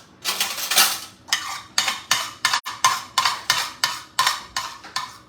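A metal spoon scraping leftover beaten egg from a bowl, a quick run of about a dozen close, rhythmic scrapes and clinks repeating roughly twice a second, with no talking.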